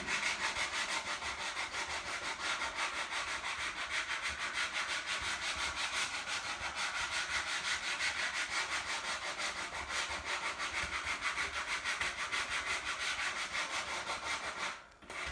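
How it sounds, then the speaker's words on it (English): Continuous rough scratching of sandpaper rubbed by hand back and forth over a finished wooden surface, close and even, stopping briefly near the end. "Oh, that's the sanding."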